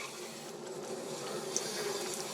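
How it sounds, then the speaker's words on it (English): Water runs steadily from a Berkey filter's tap while a white arsenic-fluoride element is primed, a continuous close splashing flow with no talk. "We don't want too much water flowing on the outside."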